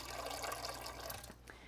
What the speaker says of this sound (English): And so now I'm gonna put filtered water.